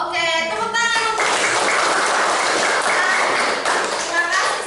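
Audience applause at a microteaching competition, a dense patter of clapping that swells after a brief voice at the start and continues steadily for several seconds.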